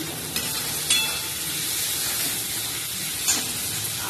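Two green chillies drop into a pan of frying vegetables and sizzle with a steady soft hiss, broken by a couple of brief sharper spits.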